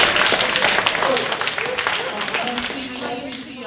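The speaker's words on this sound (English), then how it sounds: "Let's hear a round of applause for looking so wonderful." A crowd applauds at a celebration honoring a rabbi, a dense steady wash of clapping that stays loud throughout, with voices calling out over it.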